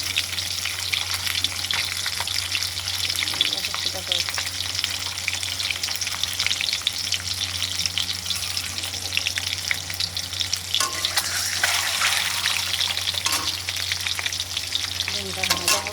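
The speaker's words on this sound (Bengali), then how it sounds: "ডিমটা ভাজা হোক তখন" An egg fries in a pan with a steady, dense sizzle and crackle that runs unbroken and fairly loud, with faint stirring now and then. No voices.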